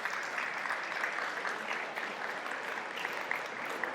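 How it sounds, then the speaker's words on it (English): Applause at a high school athletic awards ceremony, a full, even roar of many hands clapping that holds steadily throughout without any speech. "So give them a round of applause"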